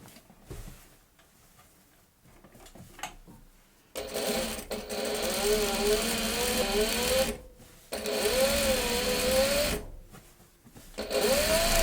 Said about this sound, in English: So I'm going to go ahead and stitch the other side down, and then we can stitch the middle.